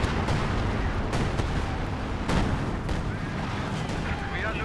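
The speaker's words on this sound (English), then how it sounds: "his own allies' assault artillery doing quite a lot of damage" Assault artillery pounds the field in Company of Heroes 2, a busy stream of heavy booms and cracks under a constant low battle rumble, with a voice talking over the barrage.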